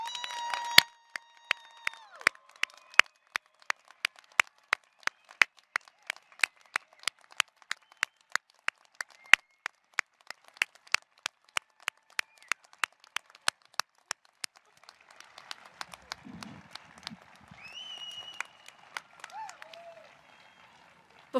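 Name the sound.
applause for graduates at commencement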